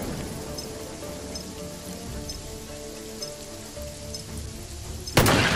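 Steady rain patters on a surface at a moderate level in the video game Jagged Alliance 3, with a sudden louder burst of noise near the end.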